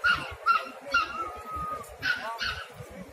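At a dog market, a puppy whimpers in a series of short, high whines, about five or six repeated at a quick pace. The whines sound fairly close over a low background murmur.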